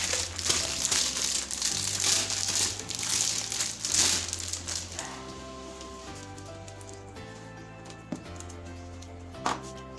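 Double-sided tape crinkles and crackles up close while it is handled and pressed down to mount a CC3D drone autopilot board, giving a dense rustling through the first half that thins into scattered soft taps later.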